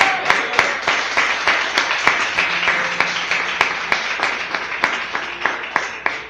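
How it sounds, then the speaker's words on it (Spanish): Church congregation clapping in rhythm, sharp regular beats over a continuous wash of many hands, sustained for several seconds at steady volume. "Aplaude a Cristo."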